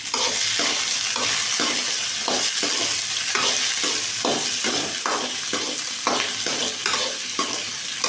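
Sliced okra sautés in hot oil for a gravy, a loud continuous sizzle broken by rhythmic stirring strokes of a spoon against the pan.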